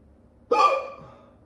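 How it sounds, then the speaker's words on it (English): A single sharp hiccup from a person, close and clear against near silence, with a short fading tail. "Chronic hiccups, it's so annoying."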